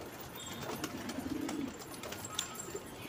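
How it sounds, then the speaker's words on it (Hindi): Around fifteen pigeons crowded into a bathing tub give soft, low cooing over a steady background of splashing and rustle, fairly close and continuous with no talk. "एक टप के अंदर तकरीबन ये 15-16 कबूतर घुसे हुए हैं।"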